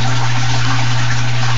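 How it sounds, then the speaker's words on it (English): Water pouring constantly from a sump pump in an aquaponic system, a loud, steady splashing flow over a low, constant pump hum, close by and without talk. "there's constantly water coming from the sump. This is one pump that never shuts off."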